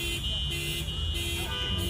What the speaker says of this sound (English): we have the car alarms going off